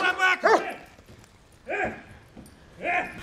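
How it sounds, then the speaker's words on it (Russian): A German shepherd working as a prison service detection and detention dog barks three times, loud and close, with a short gap after the first bark and a longer pause before each of the next two. "Суровый, с норовом, пес не любит резких движений и с ним не до шуток."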